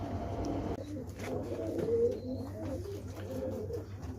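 A teddy pigeon coos softly nearby, a few low, rounded calls against a quiet background with a faint hum.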